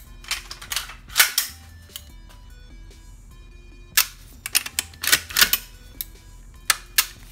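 Reassembled CETME rifle being function checked, with clusters of sharp metallic clicks and snaps from the action and trigger, close and crisp, separated by short pauses.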